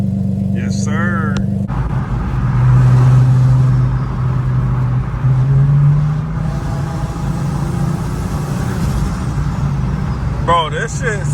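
A modified 650 whp Infiniti G37 sedan engine runs with a steady, loud low rumble throughout, its pitch rising and falling slightly as it idles and revs, with brief melodic sounds at the start and end.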